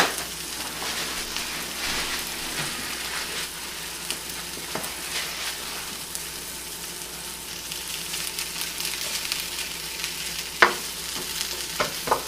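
Strawberry and cream cheese stuffed French toast frying in a pan, a soft, steady sizzle with faint crackles and a couple of sharp taps from a utensil; no voices.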